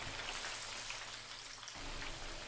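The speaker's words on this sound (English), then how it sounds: "dust off the excess flour and fry it into a pan with hot oil." Flour-coated chicken pieces frying in a pan of hot oil, giving a steady, dense sizzle and crackle that runs close and continuous throughout, with no talk.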